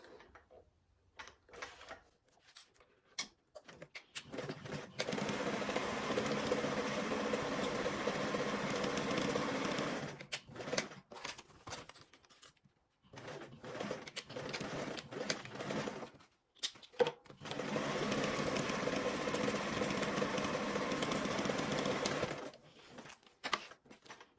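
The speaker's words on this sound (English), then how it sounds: "Now we're going to go ahead and sew these along edges with a 1/4 seam allowance." A sewing machine runs in two long, steady bursts, stitching the edges of fabric pieces with a quarter-inch seam allowance, and quiet pauses and handling noises fall between the runs.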